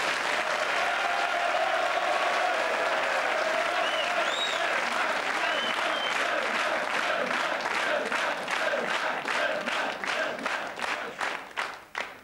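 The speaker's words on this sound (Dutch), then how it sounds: "Mag ik u applaus voor de winnaar van de veldrit in Overboelaren van vandaag" A television studio audience applauds steadily for the winner of the Overboelaren cyclo-cross race, a dense continuous roar of clapping with a few shouts and whistles, holding strong before thinning out and fading near the end.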